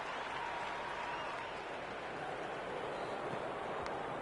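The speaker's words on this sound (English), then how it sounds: "There's an almost tangible fervour throughout the crowd at the moment." Crowd applause fills a cricket stadium in the Cricket 26 video game during an E-10 qualifiers match, a steady, dense roar of clapping and cheering that holds at an even level throughout.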